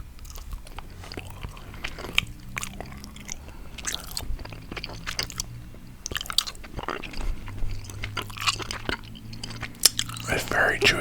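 Close, sticky chewing of a soft coconut caramel, with wet squishes and occasional bites repeating irregularly, interspersed with quiet whispering.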